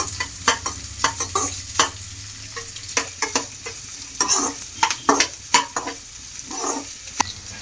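Onions frying in a pan for vegetable rava upma: a steady sizzle runs underneath while a spoon clicks and scrapes against the pan in repeated, uneven stirring strokes.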